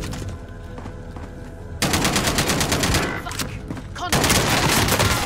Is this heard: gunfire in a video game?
yes